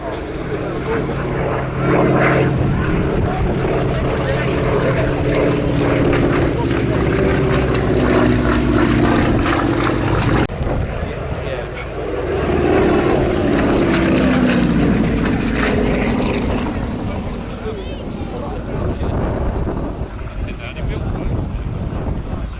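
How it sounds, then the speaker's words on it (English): A rare propeller-driven executive aircraft flies a display at the Little Gransden airshow, its loud engine drone rising and falling steadily as it passes, with wind buffeting the microphone and a commentator speaking over the noise. "As executive aircraft, it's certainly agile, staying well within inside the display centre here at Gransden, Little Gransden."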